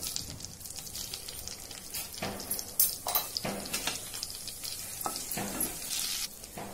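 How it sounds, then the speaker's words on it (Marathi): Cumin seeds sizzle in hot oil and butter in a pan, crackling and spitting unevenly with a few sharper pops and light utensil touches, close and fairly loud. "आता याच्यामध्ये मी अर्धा चमचा जिरं घालते"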